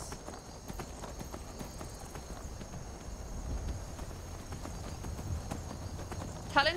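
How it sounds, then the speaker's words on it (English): Horse hooves clip-clop steadily at a gallop through the Skyrim video game, a continuous rhythmic pounding under soft background ambience, with a brief louder burst near the end. "Wish my horse had a bit more stamina."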